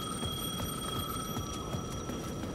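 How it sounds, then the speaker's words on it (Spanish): A ringing telephone in Alan Wake 2, a steady shrill electronic ring with sustained tones over a noisy, muffled background, heard alone without talk. "El teléfono del extremo de la plaza sonaba."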